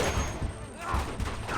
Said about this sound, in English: Engaging a little sniper battle.